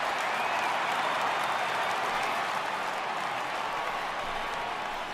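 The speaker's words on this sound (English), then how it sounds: "the home crowd seems a little restless" Home crowd at a video game baseball game between the Philadelphia Phillies and Colorado Rockies, a continuous wash of applause and crowd noise, loud and steady throughout, ending with a short sharp hit.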